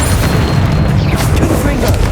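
A Confringo spell blast from the video game Hogwarts Legacy erupts in a loud, dense booming roar that fills the whole moment, with a shouted voice mixed into the din.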